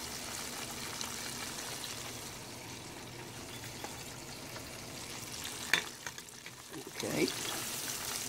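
Ocean perch fillets fry in a pan with a steady, close hiss of bubbling oil. A few soft clatters and stirring sounds break in near the end, and a voice briefly speaks once.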